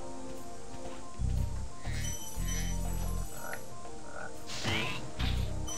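Frogs croak in the Spyro video game, several short, low, throaty calls in uneven bursts over steady game music and ambience, fairly close and moderately loud.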